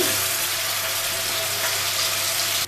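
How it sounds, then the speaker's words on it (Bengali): Pieces of chicken for chicken chaap drop into hot oil in a home kitchen and fry with a loud, dense, continuous sizzle and crackle that stays close and even throughout, with no talking. "আমার তেলটা গরম হয়ে গেছে, আমি পিসগুলো এবার দিয়ে দিচ্ছি।"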